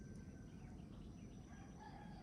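A rooster crows faintly in the distance over a steady low rumble of background noise, with scattered birdsong.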